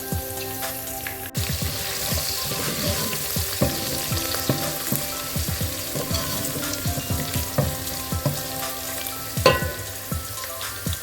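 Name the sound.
sautéing chicken with tomato in a pan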